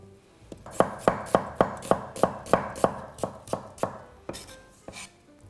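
A knife slices an onion on a cutting board, about a dozen crisp, evenly spaced strokes, then a few slower ones, close up with no talking.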